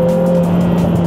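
Lotus Emira with a four-cylinder turbo engine pulling hard on a track, a loud, steady droning engine note with a sustained tonal whine and no speech.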